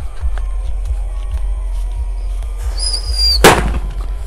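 A Happy Power roman candle firecracker goes off in one sharp, loud bang after a stretch of outdoor rumble and a brief fizzing whistle.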